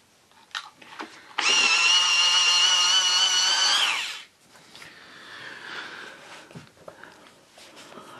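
Electric pencil sharpener whirring on a pencil for about two and a half seconds, a loud sustained high-pitched motor buzz that starts abruptly and winds down, between light tapping and handling noises.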